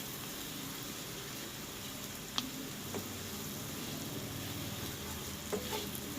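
Potatoes frying and being stirred with coriander powder and black pepper in a pan for spiced aloo wraps, a steady soft sizzle with a few faint clicks of the spoon against the pan.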